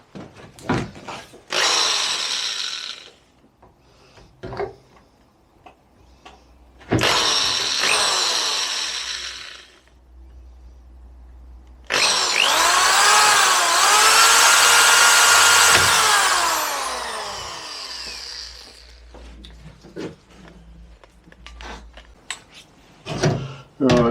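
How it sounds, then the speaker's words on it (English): A mains-powered electric drill boring holes during a narrowboat fit-out, several loud close bursts of whining drilling separated by pauses, with clunks and handling noises between them and one long sustained run near the middle. "I just prefer it when I'm drilling holes."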